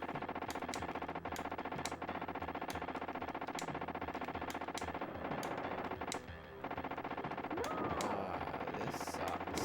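Rapid machine-gun fire from the SNES version of T2: The Arcade Game rattles steadily and fairly loudly, with sharp periodic gunshot cracks over constant bursts, broken briefly by a short dip before resuming.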